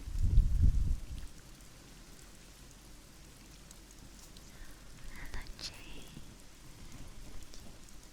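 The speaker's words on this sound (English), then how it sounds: "So these rain sounds are very gentle, very, very comfy." Gentle rain patters steadily on a surface at low level, with a brief louder low rumble at the start and faint higher drips and rustles scattered throughout.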